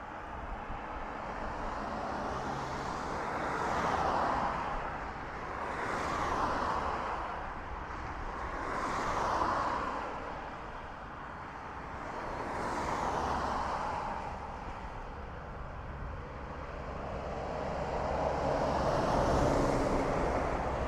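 A Ryanair airliner landing at Dublin Airport produces a continuous, moderately loud jet roar that surges and fades in slow, wind-like waves, with no talk.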